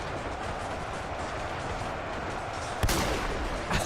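Gunfire in the Ultimate Epic Battle Simulator game's World War II trench battle: a dense, steady roll of distant shots and crackle, punctuated by a sharp, louder blast near the end.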